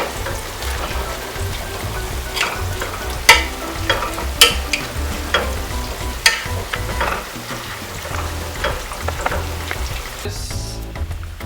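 Spinach cooks in a pan while a utensil scrapes and mashes it, giving a sizzling bed broken by sharp, irregular knocks and scrapes at close range; no one speaks.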